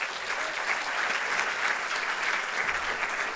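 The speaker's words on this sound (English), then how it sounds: "Round of applause once again" A crowd claps for a boys soccer team at a varsity awards night, producing a dense, steady wash of applause that holds at an even level throughout.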